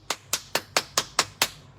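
Six sharp hand claps come in a steady, quick rhythm, crisp and fairly close, each with a short decay, from a lone clapper or a small group rather than broad crowd applause.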